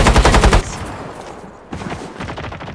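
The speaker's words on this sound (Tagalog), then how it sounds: "May bumabaril dito" Automatic gunfire in Call of Duty Mobile, a loud rapid burst for the first half second, then scattered softer shots and distant firing continuing through the rest.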